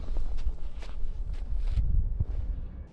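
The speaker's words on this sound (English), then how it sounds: "Then he hears footsteps." Footsteps crunch through a forest at night, several close, heavy steps in an uneven rhythm over low rumbling background noise, with no talking.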